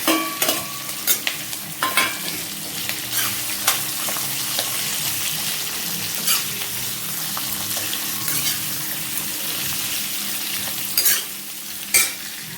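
Green chillies and onions frying in hot oil for a potato curry, a steady sizzle broken by several sharp stirring scrapes and clinks, close and with no talk.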